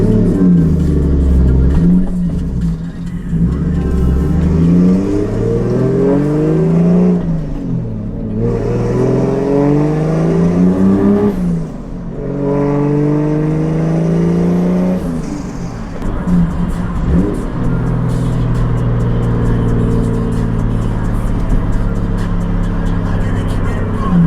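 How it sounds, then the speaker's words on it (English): A manual-swapped Toyota Soarer engine revs up and down repeatedly, rising whines falling away between gear changes, loud and close with a brief lull midway, no voices over it. "Rev matching, so I am hearing a little bit of like vibration when I'm speeding up."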